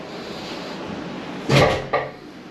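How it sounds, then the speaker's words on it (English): A squeaky balcony door at a Disney Vero Beach hotel room swings open with a short creak and a thump, followed by a second bump, over steady room hum. "if we go out onto the balcony, a little bit squeaky."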